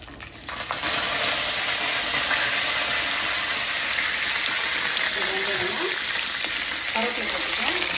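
Curry leaves frying in hot oil for a crab curry, giving a steady, loud broadband sizzle that runs the whole time with faint clinks and stirring underneath.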